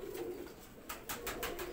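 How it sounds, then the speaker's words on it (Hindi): Soft cooing of Faisalabadi Jonsiry pigeons, a few muffled coo pulses close by over faint background hiss, with no talking. "ऐ फैसलाबादी जौं सिरे कबूतर,"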